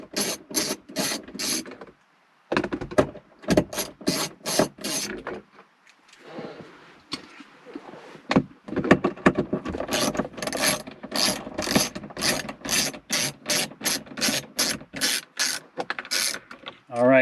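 A hand ratchet works out 10mm screws inside an Acura NSX cabin, its close, sharp clicking coming in rapid repeated bursts with short pauses between strokes.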